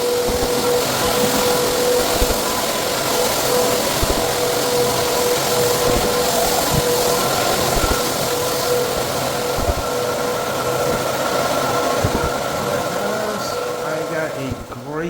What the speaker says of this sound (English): I'm gonna go ahead and start screening this floor down